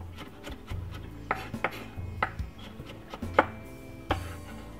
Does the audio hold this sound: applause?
no